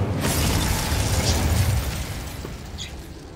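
Incendio fire spell cast in a Harry Potter video game, a loud rushing whoosh of flame that roars for about two seconds and then fades, with a brief bright crackle near the end.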